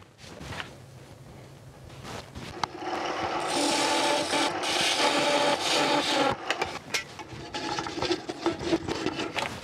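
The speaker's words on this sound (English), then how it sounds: "Finish it with the Acks Abrasive Paste and polish" A small turned wooden birdhouse ornament is polished on a spinning lathe with abrasive paste. A close, hissy rubbing swells up for a few seconds and then breaks into short scraping strokes over the lathe's motor.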